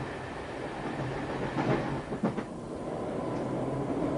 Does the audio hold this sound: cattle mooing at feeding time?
no